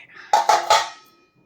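A lid goes onto a container of Indian gooseberry pickle: three quick, hard clinks in a row, close and clear, with a short ringing tail that fades.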